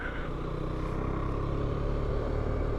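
A 2018 KTM Duke 390 motorcycle engine idles steadily nearby, a continuous low rumbling hum with no talking.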